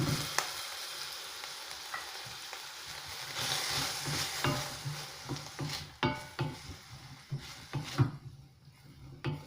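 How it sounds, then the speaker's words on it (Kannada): Onion and tomato fry in a pan for an ivy gourd masala curry, giving a moderate sizzle under scraping spoon strokes. The stirring grows into rhythmic scrapes toward the end, with no talking. "ಹಸಿ ವಾಸನೆ ಹೋಗೋ ತನಕ ಸ್ವಲ್ಪ ಇದನ್ನು ಹುರಿಬೇಕು"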